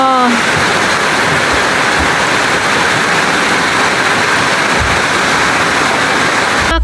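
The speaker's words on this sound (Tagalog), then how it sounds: "Ulan na naman!" Heavy rain pouring down outdoors as a loud, dense, unbroken roar of water that fills the whole stretch, with faint low thumps beneath it.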